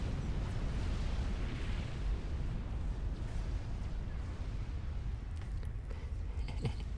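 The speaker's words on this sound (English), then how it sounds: "He's bombing flak." Bombers hitting flak defences in Supreme Commander: Forged Alliance, a continuous heavy rumble of explosions with low booming bursts and a few sharper pops near the end, loud and dense, no talking.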